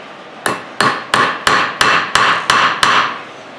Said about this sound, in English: Small hammer time.